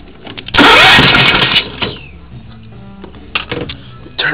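A small riding lawnmower engine cranks and roars to life, running loud for about a second before dropping to a rough idle with a few revving bursts.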